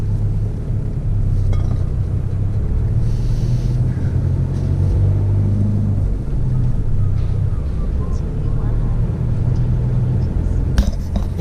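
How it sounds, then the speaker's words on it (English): A big truck passes on the road, a loud low rumble that swells and holds steady through the stretch, heard from inside a vehicle with faint rattles on top. "Okay, I'll move out of your way, big truck."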